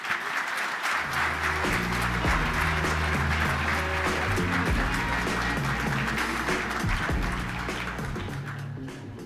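A crowd applauds steadily to welcome Chairman Peter DeFazio to the stage at a transportation policy event, with dense clapping holding at a loud, even level for about nine seconds before tapering slightly at the end.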